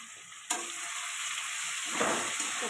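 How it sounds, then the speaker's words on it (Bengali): Fish curry spices with turmeric and chili powder fry in a pan with potato and tomato, a steady close sizzle after a sudden onset, with stirring scrapes swelling near the end. "একটু ভালো করে কষিয়ে নেব।"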